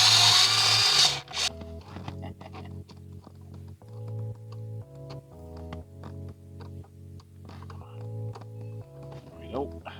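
A power driver whirs in short repeated bursts as Phillips screws are driven into a replacement multi-function switch on a Jeep Patriot, close up, with brief pauses between runs and a speaking voice.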